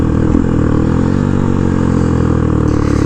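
A Honda XR150L motorcycle engine drones close and loud with a steady thrumming rumble as it downshifts, the pitch shifting slightly over a few seconds.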